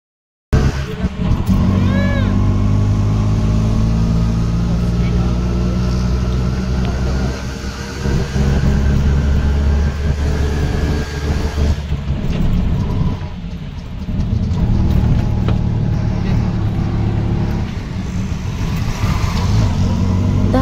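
Riding inside a moving bus: a loud, steady engine drone and road rumble fill the whole stretch, with rising and falling engine tones as it shifts and changes speed.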